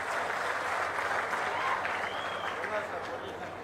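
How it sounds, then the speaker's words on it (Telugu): A dense burst of applause from an audience congratulating people at an official review meeting held by the Chief Minister, steady and loud for the full length with a murmur of voices mixed in. "బాగా చేసిన దానికి మాత్రం చప్పట్లు కొట్టి అభినందించండి."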